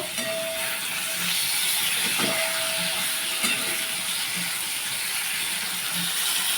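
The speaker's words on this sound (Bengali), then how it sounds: "চিংড়ি মাছ ভাজা হচ্ছে" Shrimp frying in a pan give a steady broadband sizzle and hiss with faint clinks of stirring, close and continuous, with no one talking.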